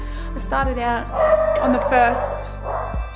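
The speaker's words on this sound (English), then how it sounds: "excuse the dogs, they're being crazy." Several dogs bark and yip excitedly close by while someone talks over them indoors.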